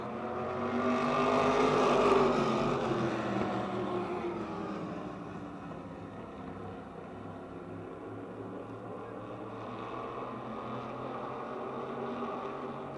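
Race cars pull away at the green flag at Motordrome Speedway, a faint, distant roar of engines that swells over the first couple of seconds, then settles into a steady, blended drone.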